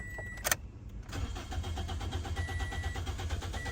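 A Toyota Corolla that cranks but won't start: a sharp click comes first, then the starter churns in a steady, close, rhythmic whirr that never catches into a running engine.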